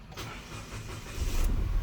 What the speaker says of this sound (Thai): ถ้าจะให้ดีคือสตาร์ทเครื่องเลยครับ